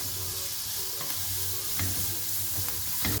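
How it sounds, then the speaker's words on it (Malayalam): Ginger-garlic paste and green chilli sautéing in a pan, with a steady low sizzle and a few soft scrapes of a spoon stirring, close and alone without any talk. "ഇഞ്ചിയുടെയും വെളുത്തുള്ളിയുടെയൊക്കെ പച്ചമണം മാറുന്ന വരെ ഒന്ന് വഴറ്റിയെടുക്കാം"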